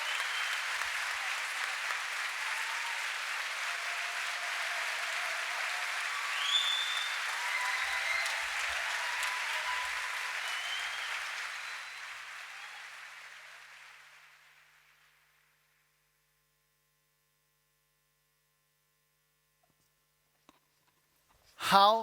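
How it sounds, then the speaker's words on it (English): Audience applause after a Ukrainian opera performance at the YMCA World Council 2022 opening ceremony, steady dense clapping from a large crowd that gradually fades away to silence, followed by a brief sound near the end. "Maybe we should give them another round of applause."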